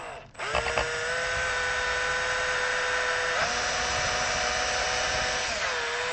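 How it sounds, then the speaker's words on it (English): A power drill bores a hole into a hardtail Squier Stratocaster guitar body, its motor whining steadily and loudly up close for several seconds and shifting pitch partway through as the bit cuts into the wood. "So I'm going to go ahead and drill a hole here."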